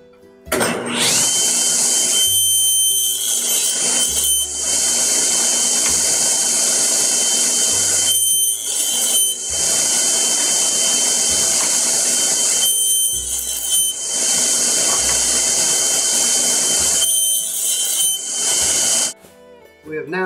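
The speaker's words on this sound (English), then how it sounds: "So we'll cut the shoulders first on the table saw." A table saw cuts tenon shoulders in a 2x4 for a coffee table, a loud high whine running in long repeated bursts with brief drops between passes.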